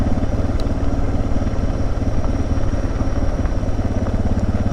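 A commuter motorcycle rolls along a gravel and rock road, its engine putting out a steady, close, mid-pitched thrum with a faint crunch and clatter underneath and no talking.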